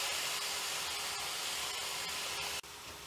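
A coconut-tomato masala paste with spices sautés in a pan for a green gram curry, a steady close sizzle with faint scraping ticks, dropping slightly quieter near the end, no voices.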